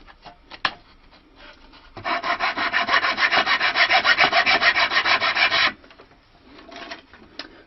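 Chisel scraping and rasping along wood while finishing the binding of a handmade stick dulcimer, a steady rhythmic run of rough strokes for several seconds, with softer scattered scrapes before and after.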